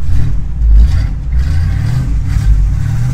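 A 1967 Chevy Camaro SS muscle car's engine, heard from inside the uninsulated cabin as a ride begins, gives a deep, steady, close rumble that swells slightly without sharp revs.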